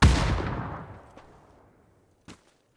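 One loud, booming gunshot in an online shooter game decays slowly into silence, followed by a fainter distant shot, with no voices.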